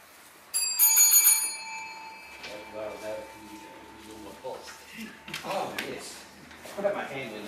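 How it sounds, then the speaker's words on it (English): A single bell rings out sharply in a Lean Sigma simulation training exercise, a bright tone that decays over about a second, followed by people talking at a moderate distance. "Only when the bell rings"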